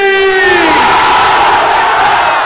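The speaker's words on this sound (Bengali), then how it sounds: "এবার কণ্ঠের যতটুকু আওয়াজ আছে পুরোটা আওয়াজ ছেড়ে দিয়ে একটা তাকবীর হবে" A large crowd roars a takbir chant at full voice, a loud sustained massed shout that swells and holds throughout, close and overwhelming.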